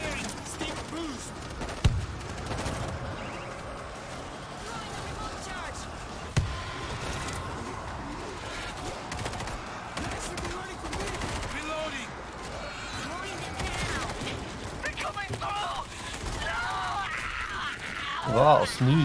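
Gunfire from the zombie co-op shooter World War Z, with sharp shots cutting through a dense, noisy battle mix while players talk throughout.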